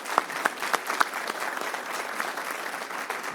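Audience at a city council meeting applauds officers' loved ones with a sustained round of clapping, a few sharp claps standing out at the start before settling into even applause.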